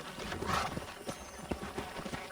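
Horse hooves in the video game Red Dead Redemption clip-clop at a steady walking pace on a ranch, moderately close, with a soft background ambience and no voices.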